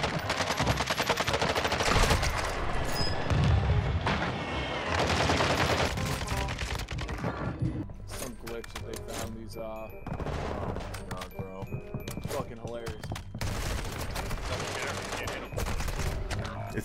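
Dense rapid gunfire and automatic bursts from a first-person shooter video game fill the mix, loud and nearly continuous, with players talking over the shooting.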